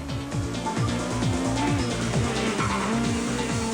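A Class A8 Golf rally car on Tour Natal 2002, heard from inside, revs hard through rapid gear changes, each shift giving a sharp drop and climb in pitch, loud and close, with a brief tyre squeal.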